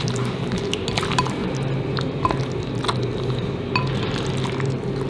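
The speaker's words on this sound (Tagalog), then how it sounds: "Nagagamit ako ng spatula kasi pag ginamit ko itong kutsara sa paghalo, baka madurog ko yung mga prutas." Soft wet squishing and occasional faint clinks as a spatula folds a simple three-fruit salad in a bowl, steady and close with no talking.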